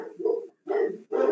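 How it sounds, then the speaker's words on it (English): A dog barks three times in quick succession, close and fairly loud, with short pauses between the barks. "the dog's barking"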